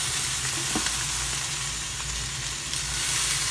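Cabbage added to a simmering pan hisses and sizzles in a steady, loud wash of frying noise with faint stirring scrapes, close by and with no talk over it.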